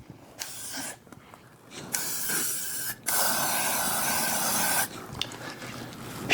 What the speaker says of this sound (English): which just gives you a fog spray like that